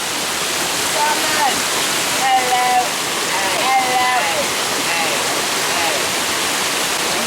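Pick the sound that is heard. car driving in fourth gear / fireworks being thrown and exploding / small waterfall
small waterfall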